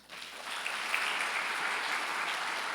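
A church congregation breaks into applause during a Portuguese sermon, the clapping swelling quickly and holding steady as a dense, moderately distant wash of sound.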